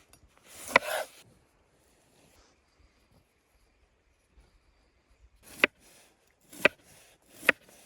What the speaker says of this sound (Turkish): Şimdi limonu da doğruyoruz.